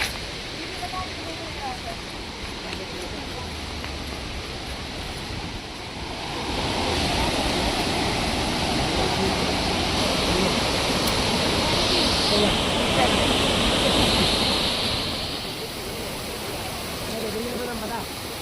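Roar of Chitrakoot waterfall in Chhattisgarh, India's widest, heard as a broad continuous rushing wash that grows louder midway and then eases back, with faint voices in the background.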